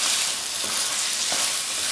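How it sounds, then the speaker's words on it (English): Lamb bhoona curry simmering in a pot, giving a steady close sizzling hiss with faint soft stirring scrapes and no talk. "When the curry reaches a simmering point, just lower the heat and cover it, and in between occasionally stir it until the meat is cooked through."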